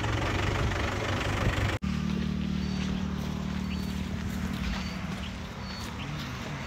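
A parked tractor that has been pulling a double reversible plough idles at the roadside, giving a steady, close engine drone that continues without pause after a brief sharp click.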